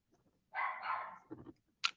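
A dog gives a short burst of barking followed by a couple of softer yelps and one sharp final bark, fairly close against an otherwise quiet room.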